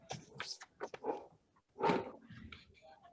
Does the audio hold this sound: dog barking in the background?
yes